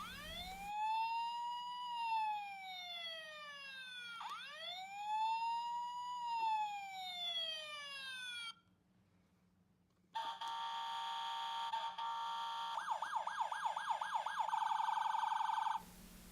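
A Tonka toy ambulance cycles through electronic siren patterns: a rising-falling wail, a brief silence, then a fast yelping warble, all thin and steady from the toy's small speaker.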